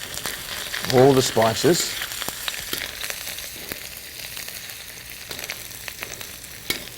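Ginger, green chilies and cumin seeds stir-fry in hot oil with a constant crackling sizzle and a few scraping stirs near the start, while a voice speaks briefly over the cooking.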